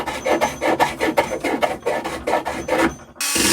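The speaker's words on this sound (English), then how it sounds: "I'm probably just going to carve in both sides." A wooden guitar body is carved by hand, giving a series of rhythmic rasping strokes, about a dozen close scraping passes in steady succession, followed by a brief pause and a harsher burst at the end.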